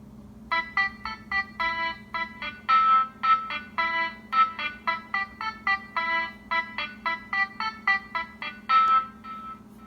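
Trumpet and electric piano parts of a home-recorded music arrangement play in short, punchy stabs and chords, repeating rhythmically for about ten seconds, clear and up front with no talking.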